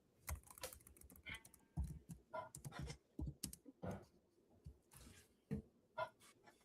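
Fast typing on a computer keyboard with uneven bursts of clicky keystrokes, close and fairly quiet, with no voices over it.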